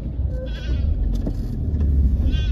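A goat in the village of Studenoye bleats briefly twice, at the start and again at the end, over a low rumbling engine idling nearby.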